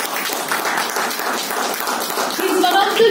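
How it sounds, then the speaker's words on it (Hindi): Audience applause at a health, wealth and happiness talk, a dense, blurred clapping wash heard close and loud, with a faint tone creeping in near the end. "तालियां होनी चाहिए इनके लिए."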